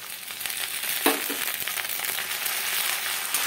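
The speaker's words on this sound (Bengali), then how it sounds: "এখন আমি আদা রসুনের পেস্টটা দিয়ে দিচ্ছি।" Ginger-garlic paste frying with golden onions in a pan makes a continuous close sizzle, broken by a short scrape or stir early on.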